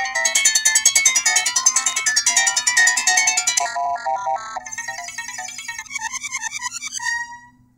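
An OP-1 synthesizer plays random notes controlled from iPython, bright, rapid chiming tones in quick bursts that shift in pitch and texture before cutting off.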